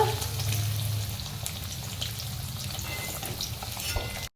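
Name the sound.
onion frying in a pan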